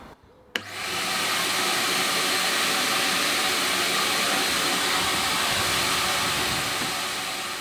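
A cheap used supercar bought for £500 and being repaired on a driveway, with a smoke fault: the engine fires with a sharp click and settles into a loud, steady, broadband roar that holds until the end.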